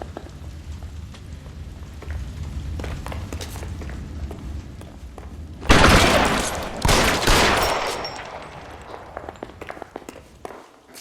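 Gunfire in the L.A. Noire game: scattered shots and movement noise lead to a loud burst of rapid shooting midway, then trailing echoes and fainter sporadic sounds.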